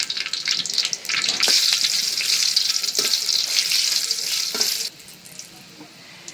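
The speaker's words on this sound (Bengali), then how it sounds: "মরিচটা কড়া ভাজা করে দিলাম" Dried red chillies fry hard in hot oil with a bright, crackling sizzle that stays loud and steady before dropping to a quieter hiss near the end, with no voices.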